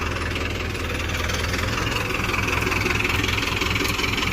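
A bulldozer with over 3000 hours, working a field and pushing thorn bushes, reverses with its engine running in a steady, close, loud diesel rumble that carries on without pause, with no talking.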